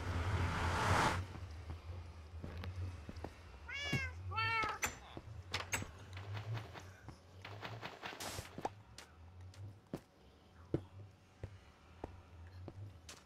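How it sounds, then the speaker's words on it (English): A Minecraft cat gives two short, quavering meows partway through, set among scattered clicks, taps and soft footstep-like knocks over a low background rumble, fairly faint overall. "The cat's back."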